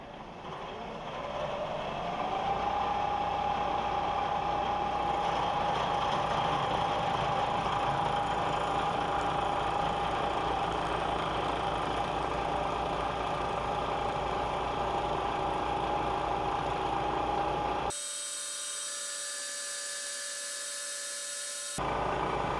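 Machining raw steel stock for a drill press vise, a steady loud whine of a cutting machine with a constant tone running for most of the span, then dropping to a quieter hum near the end.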